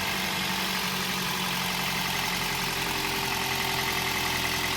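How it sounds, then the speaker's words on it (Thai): A Toyota Vios engine idles steadily up close after a spark plug change, a continuous low rumble with a faint mechanical whine and no talking. "ฟังเสียงเครื่องนะครับ"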